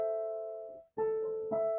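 Piano chord ringing out in a quiet room, a minor chord struck and sustained, then restruck twice more in quick succession with slightly shifting notes, each held and clear.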